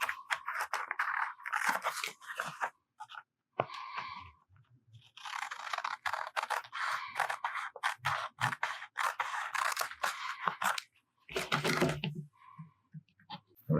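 Sharp scissors snipping through Dyneema fabric for a small backpacking wallet or pouch, giving repeated crisp close-up cuts and crunchy scraping bursts in an uneven rhythm with short pauses.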